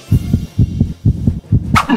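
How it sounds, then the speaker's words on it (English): Low, thudding double-beat heartbeat from the Dragonheart video game's low-stamina warning, repeating steadily in lub-dub pairs about twice a second, loud and close, with a brief brighter sound at the end. "every time your stamina slightly goes into the red, that's when the heartbeat sound kicks in and takes over the entire game"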